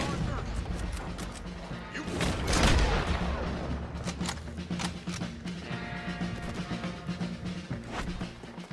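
A Red Dead Redemption 2 video game battle rages with dense, continuous gunfire and cannon fire, a loud booming blast swelling in the middle, and the crackle of shots carrying on throughout.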